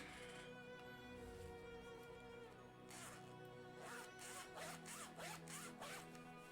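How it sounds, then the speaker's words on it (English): A zipper pulled open on a notebook case during a tabletop Dungeons & Dragons session, several quick ratcheting zips near the end, close and crisp over a steady background hum. "That's a dramatic zip."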